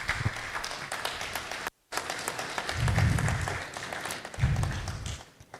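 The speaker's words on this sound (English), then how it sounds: "Another round of applause for him, please." Audience applause at a public lecture, dense clapping filling the hall, briefly cut by a short gap before resuming and swelling in waves.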